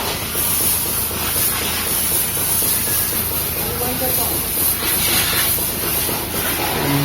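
A pressure water spray washes a car's front wheel during servicing, a loud steady hissing spray that continues throughout with faint voices beneath it.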